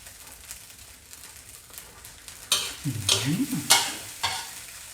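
Hot dog fried rice with egg being stir-fried in a pan: a faint background hiss gives way to louder, close scraping and tossing strokes in the second half, with bright clatters of a utensil against the pan.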